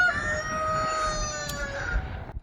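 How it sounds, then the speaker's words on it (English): Roosters on a farm crow in long, overlapping calls, loud and fairly close, with faint outdoor background noise and no talk. "All the roosters singing their songs"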